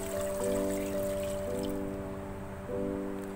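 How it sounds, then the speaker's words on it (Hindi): Water poured into a cooking pot on a home kitchen stove, a steady trickling and splashing stream running for a few seconds, close and fairly quiet with no talking. "अब मैं इसके अंदर 2 गिलास पानी ऐड करूँगी।"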